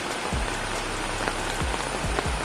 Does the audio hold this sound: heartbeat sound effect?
no